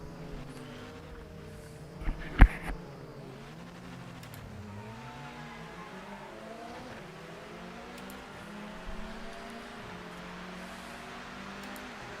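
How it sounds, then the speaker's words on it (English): Race car in the Project Motor Racing video game: a faint engine whines up and down through gear changes under steady wind rush, quiet and distant-sounding, with a couple of brief sharp knocks early on. "All I can hear is wind, not engine."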